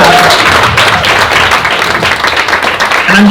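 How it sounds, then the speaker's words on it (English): A panel audience at a film festival applauds the filmmakers, a dense, steady patter of clapping hands filling the room at a fairly loud level without letting up. "round of applause for these"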